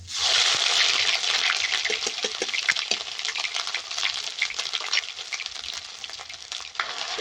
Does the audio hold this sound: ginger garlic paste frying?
yes